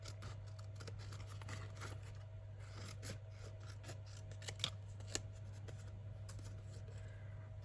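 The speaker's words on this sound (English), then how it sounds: "I'm going to cut it with my scissors" Scissors cut through paper in steady snips and rasping strokes, close by, over a constant low hum, with no talking.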